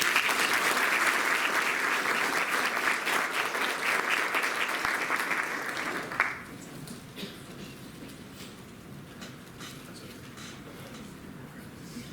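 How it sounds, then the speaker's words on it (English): Audience applause at a talk on health insurance and big data, a dense steady wash of clapping for about six seconds that abruptly drops to faint room noise and scattered claps. "please join me in giving him a warm temple applause"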